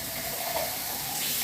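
Kitchen tap running steadily into a sink while canned ingredients for chili are rinsed, a continuous close hiss of flowing water with no pauses.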